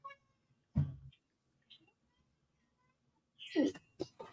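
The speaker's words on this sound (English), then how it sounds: "There's my other kitty." A cat meows close by, one short call followed by a longer, louder meow with a brief trailing cry, set against quiet room sound.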